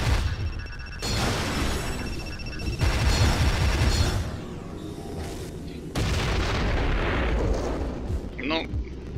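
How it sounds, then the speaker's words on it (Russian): In the Descent 3 video game, a heavy explosion blows up the player's ship on a lunar level, loud booming blasts and crashing roars across most of the span, with a voice talking over parts of it. "меня удачно разорвало, блин, на куски"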